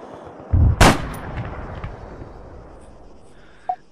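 A single sharp, loud sniper rifle shot in Arma 3 cracks out close by, then rolls off into a long fading echo, with a small faint click near the end.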